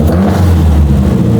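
A Nissan S13's SR20 engine revs loudly and close by in a shop, a brief rough rasping roar that holds steady through a short burst.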